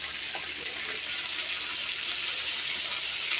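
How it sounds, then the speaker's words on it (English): Steady rushing water, a continuous stream pouring into a cooking pot of Jamaican stew chicken, fairly close and uninterrupted throughout. "We'll just add like a quarter cup of water for now."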